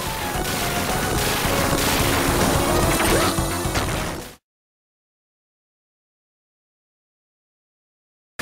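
Explosions and gunfire from the Sega run-and-gun game Gunstar Heroes crash and rattle densely for about four seconds, loud and busy, then cut off abruptly into silence.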